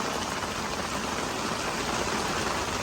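Heavy rain pours steadily on a garden allotment, a dense, even hiss with no letup and no voices.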